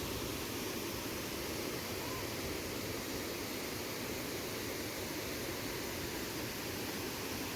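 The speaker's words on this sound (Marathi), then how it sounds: "पूर पण फार आहे, त्याच्यामुळं आवाज पण फार येतो ते पाण्याचा." The hidden Ghubadi waterfall near Jawhar and its flooded stream roar with rushing water, a loud, dense, unbroken wash of noise filling the whole moment.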